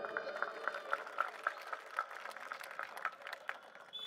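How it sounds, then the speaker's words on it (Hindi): Crowd at a political rally in Babarpur, Delhi claps in a scattered, rhythmic patter, moderately distant and steady for a few seconds, with faint voices beneath. "जोरदार तालियां अपने लिए बजा लीजिए आप।"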